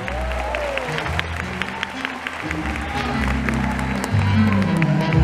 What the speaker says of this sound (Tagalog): Palakpakan naman natin!